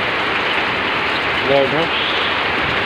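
Heavy rain pours down in Meycauayan, Bulacan, a dense steady hiss of rainfall on surfaces with a brief voice speaking over it midway.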